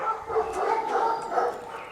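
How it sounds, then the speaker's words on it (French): Several dogs barking together behind a fence near a small hotel, a dense overlapping chorus of yaps and barks at moderate distance, continuous over a couple of seconds without talk. "Mais ils ont combien de dizaines de chiens derrière?"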